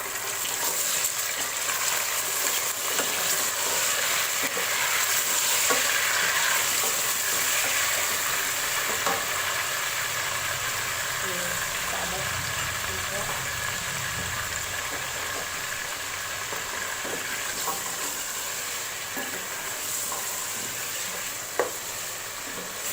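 Chicken pieces frying in a pot with browned onions for korma pulao, a continuous dense sizzle with faint scraping and bubbling throughout, close and fairly loud, no talking.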